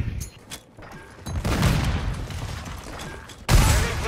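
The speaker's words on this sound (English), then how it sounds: "Grenade, get back." Video game grenade explosion: a burst of booming gunfire and blasts in a combat shooter, with a sudden loud detonation near the end after rattling fire.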